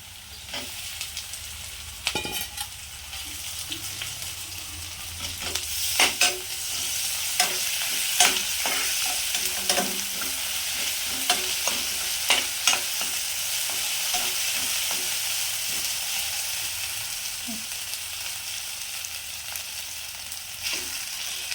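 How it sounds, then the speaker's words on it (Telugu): Ginger frying in a pan for a tomato curry, with a continuous close sizzle and repeated sharp clinks and scrapes of stirring. No one speaks. "అల్లం వేస్తున్నా ఇప్పుడు"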